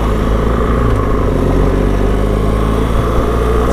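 A motorcycle engine runs steadily while being ridden, giving a loud, continuous low drone with little change in pitch, close up and with no voices.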